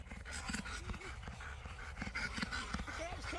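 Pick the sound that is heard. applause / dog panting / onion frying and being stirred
dog panting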